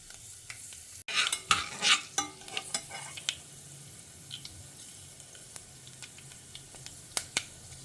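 Mustard seeds, cumin and fenugreek spluttering in hot oil in a pan, heard as a burst of sharp crackles and pops with a stirring clatter early on, easing to scattered pops.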